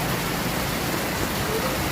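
Steady, dense rain hisses without a break, a broad wash of noise like a heavy downpour close by.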